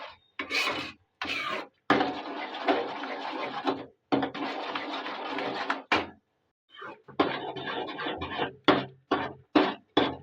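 A spoon scrapes repeatedly around a pan of wheat halwa cooking in ghee, giving rough rasping strokes in bursts with short pauses between them, close and fairly quiet, without any voices.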